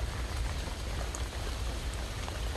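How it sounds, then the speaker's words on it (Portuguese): Rain falling outdoors as a steady, dense hiss of drops that stays constant and fairly loud throughout, with no pauses and no voices. "Estou aqui embaixo de chuva para tentar acompanhar."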